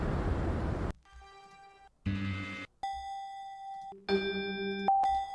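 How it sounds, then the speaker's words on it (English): Synthesized bell tones, auditioned as sound effects for a spaced-out electronic track, play as a string of short separate chimes and ringing tones that change pitch and timbre, some sustained and some clipped, with brief silences between them. "Let's go for another bell sound."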